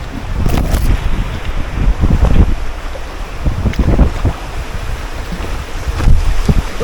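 An inflatable kayak, a Chelan 140, runs down a whitewater rapid with steady rushing water and wind buffeting the microphone, broken by several louder splashing surges.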